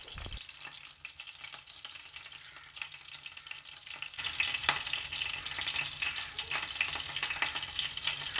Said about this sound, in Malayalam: നമുക്ക് എല്ലാ ഭാഗവും ഒരുപോലെ ഫ്രൈ ആക്കി 1/4 വേവ് വേവിച്ചെടുക്കാം